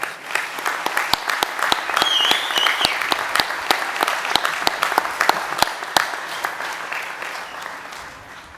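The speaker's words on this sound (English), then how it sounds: "Let's give these students a thunderous round of applause." Sustained audience applause at a 2020 high school graduation ceremony, dense and steady throughout, with a few sharper claps standing out from the crowd.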